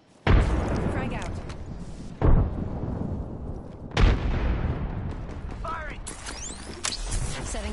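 Grenade explosions in a video game during a ranked match, several heavy booming blasts each followed by a long rumbling decay, set among game effects and a player's voice calling out.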